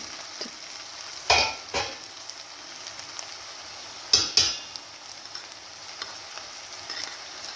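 Ginger garlic paste frying with golden onions in a pan for tomato-free biryani, a low steady sizzle under occasional stirring scrapes and clinks.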